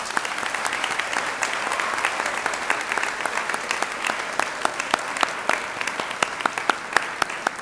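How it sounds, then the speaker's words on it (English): An audience at a school convocation claps steadily, a dense wash of hands with some sharper individual claps standing out toward the end. "Please give them a big round of applause."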